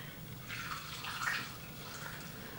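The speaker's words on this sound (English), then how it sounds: "we are going to pour this into a jar" Almond milk being poured into a jar in a home kitchen, a soft continuous liquid trickle and splash lasting a couple of seconds, close and fairly quiet, with no talking over it.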